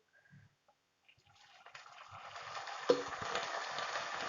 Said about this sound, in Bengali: আমার পেঁয়াজটা কিন্তু ভাজা হয়ে গেছে, দেখুন একটু লাল হয়ে গেছে।